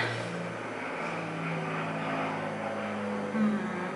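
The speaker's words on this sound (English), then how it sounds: "oh, there's a plane." A propeller airplane passes overhead outdoors, a steady broad engine drone with a low hum, fairly loud and continuous throughout with a slight swell near the end.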